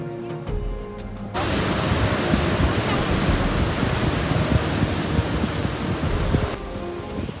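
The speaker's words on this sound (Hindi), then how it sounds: "द्वारकाधीश के पास ही गोमती नदी है, जिसका पानी अरब सागर में मिलता है" Surf-like water where the Gomti river meets the Arabian Sea at Dwarka, a steady loud broadband wash that rises sharply after a quiet start and holds evenly, with wind noise on the microphone.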